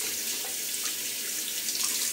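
Cold tap water runs steadily into a sink during winter while the face is pre-washed for a wet shave, a continuous close hiss with no talking.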